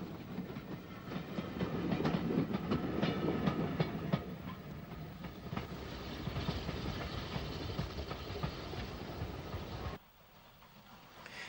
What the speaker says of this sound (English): S-Class number 173, Galtee Moor, pilots V-Class number 83, Eagle, on the heavy 11-coach, 12-noon train from Belfast to Dublin.